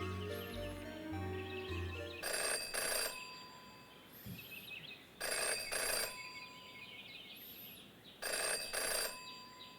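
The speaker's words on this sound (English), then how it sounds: "Jenny had learned never to ignore a ringing phone" A telephone rings in the game Jenny LeClue, three bright, evenly spaced double rings over soft background music with light chirping tones.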